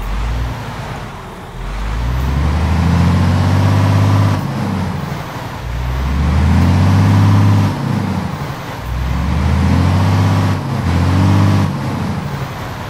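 Scania R2009 Streamline truck engine in Euro Truck Simulator 2 revving up and down repeatedly, loud deep diesel swells rising and falling in roughly four cycles, each climbing in pitch before easing off, with no talk.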